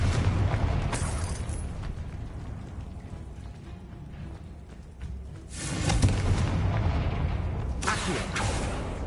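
A Confringo blasting curse explodes in Hogwarts Legacy: two loud booming bursts, one near the start and a stronger one around six seconds, over a rumbling game background.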